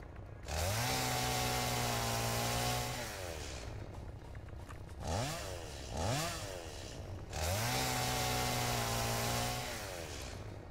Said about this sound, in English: I have a chainsaw.